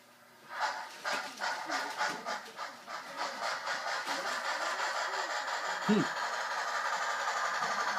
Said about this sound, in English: by simply changing a CV, we're now going to simulate the chuff of an articulated chuff here